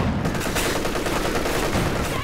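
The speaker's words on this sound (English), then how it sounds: "Sniper just got shot at by these Foch Grenadiers." Rapid, overlapping rifle fire from Foch Grenadiers shooting at a sniper in a strategy video game, a dense crackling fusillade that stays loud and unbroken for its short length.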